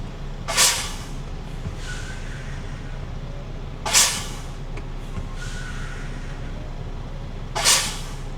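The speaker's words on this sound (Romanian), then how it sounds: "Cred că trebuie să las jos liftanta." A truck's lift axle is lowered by its air suspension, giving short, sharp bursts of air hiss at regular intervals of several seconds over a steady low idle.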